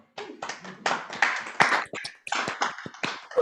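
Applause for participants at a spring tournament opening ceremony, a small group clapping in uneven bursts with distinct separate hand claps and brief gaps, close and clear, no talk.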